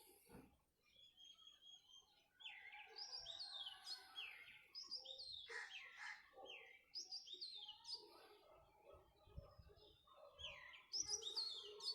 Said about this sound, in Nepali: बाहिरी आवाज, चराचुरुङ्गी आवाज